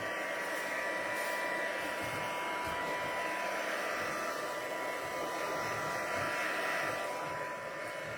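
A hair dryer on low setting blows steadily to dry white paint, a continuous even whir with a thin motor whine that holds unchanged throughout, close and alone.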